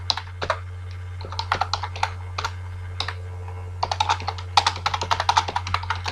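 Steady clicking of keys on a computer keyboard as Python code is typed, irregular bursts of taps with brief pauses, close and clear over a low constant hum.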